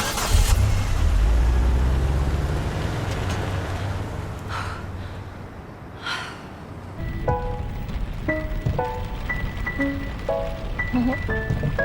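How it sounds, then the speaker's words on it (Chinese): Rain falls steadily on Valentine's Day as a broad wash of hiss, with a car engine rumbling low at first; after a brief dip, scattered tonal sounds and faint background noise take over near the end. "你不觉得情人节下雨很浪漫吗？"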